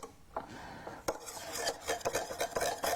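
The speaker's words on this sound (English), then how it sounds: "So I'm going to keep stirring." A stir stick scrapes and clinks around a container of gloppy yeast and water mixture, with continuous rubbing, scraping strokes and a few sharper knocks, close up and without talk.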